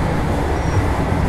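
Inside the 22309 Bhagalpur Vande Bharat Express running at about 126 km/h, a loud continuous low rumble and rushing noise fills the carriage, steady and close with no talk.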